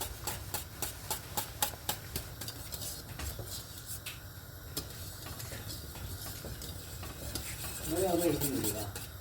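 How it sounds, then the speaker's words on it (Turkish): A corn flour mixture is stirred in a pot, rhythmic scraping and knocking strokes of a utensil against the pot, close and moderately loud, with a faint sizzle beneath and a short murmur near the end. "Mısır ununu. Şimdi güzelce karıştırıyorum."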